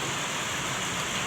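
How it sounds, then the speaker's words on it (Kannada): Rain falls steadily in an even, close hiss that holds without a break and has no voices over it. "ಮಳೆನೂ ಆದತ್"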